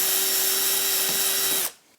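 Power drill boring holes into a waste board for a tracksaw cutting station, a steady loud whine running continuously for about one and a half seconds before stopping abruptly.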